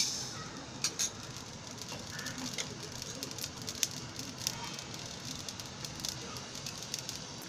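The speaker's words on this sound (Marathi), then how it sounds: "ही अशी मोहरी तडतडायला लागली ना" Mustard seeds crackle and splutter in a hot, dry cooking pot while dal (varan) is being made, a faint, steady patter of small pops running throughout.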